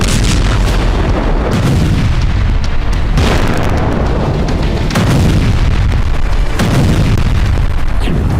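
Loud, continuous rumbling booms of explosions and artillery fire in Kharkiv, several heavy blasts rolling over one another with dense crackling noise and no voices.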